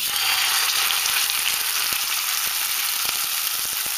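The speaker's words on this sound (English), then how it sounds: "what I want to do is sear it on the outside, and then I'm going to bring that heat down" Wild pork steak searing in a very hot oiled pan, a steady loud sizzle and crackle of frying fat running unbroken throughout, with occasional sharp pops.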